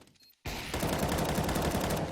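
Sudden burst of rapid video game gunfire after a short quiet moment, sustained loud shots in quick succession.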